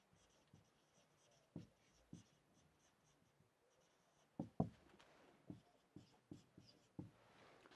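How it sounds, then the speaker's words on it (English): Chalk or marker taps and strokes on a board in a classroom, a series of short, distinct knocks with quiet gaps, growing denser toward the end, close but soft. "let me write it again"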